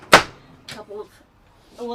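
A drawer and a shallow pull-down cabinet in an RV kitchen at an RV show open with one sharp broadband clack near the start, then softer thumps, with voices and room noise around.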